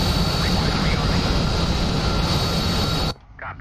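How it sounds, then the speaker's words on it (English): F-14 Tomcat jet engines roar steadily and loudly while taxiing in a video game set during a 1996 US invasion of Cuba, the sound cutting off abruptly near the end. "Slower 1-1 Tomcat taxiing to platform."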